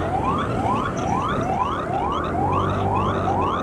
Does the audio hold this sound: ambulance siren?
yes